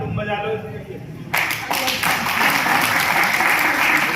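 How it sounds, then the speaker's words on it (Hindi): Audience applause breaks out at a seminar in Etawah, Uttar Pradesh, following a roll call of attendee names and towns; the clapping starts suddenly and continues steadily and loudly to the end, with no speech over it. "अब ताली तुम बजा लो।"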